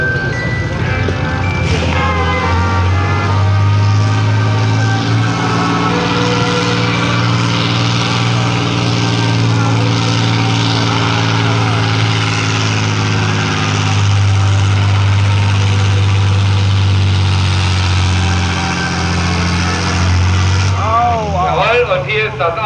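A tractor-pulling tractor from a 1982 event in Anholt, its standard engine running with a loud, steady low roar that holds for most of the stretch, close by, while an announcer talks over it.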